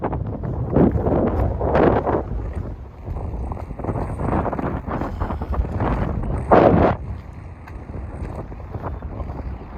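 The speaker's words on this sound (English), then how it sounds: "Pretty windy." Strong gusts batter the microphone in loud, rumbling bursts at a cemetery, rising and falling unevenly, with a heavy blast near the end and no voices.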